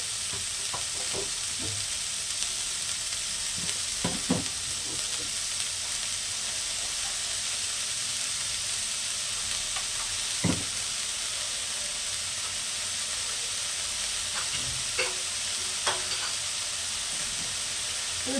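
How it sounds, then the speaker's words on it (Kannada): Onions fry and sizzle in a pan for beetroot palya, with a steady hiss throughout and scattered scrapes and knocks of stirring, nearby, with no talk. "ಈರುಳ್ಳಿ ಬೇಗ ಫ್ರೈ ಆಗುತ್ತೆ"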